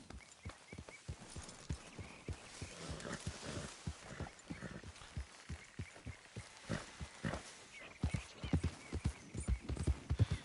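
Horse hooves galloping at a steady quick clip-clop in Red Dead Redemption 2, dense rhythmic thuds running the whole time, close and moderately loud over faint ambient game sound.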